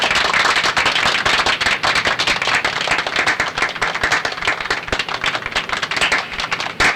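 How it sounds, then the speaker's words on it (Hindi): Steady, vigorous hand clapping by a minister in a film scene, dense and loud with sharp rapid claps and no speech. "मिनिस्टर जी की ताली बजाने के अंदाज से लगता है कि वो खुश नहीं है।"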